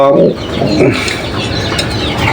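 Pigeons cooing in a loft, with low, rounded coos up close and soft chirps over a dense background of bird sounds.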